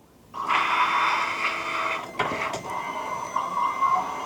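A vinyl cutter machine cutting logo stickers: a steady, close mechanical whir and hum that starts abruptly, with brief clicks and shifts in tone as the cutting head moves.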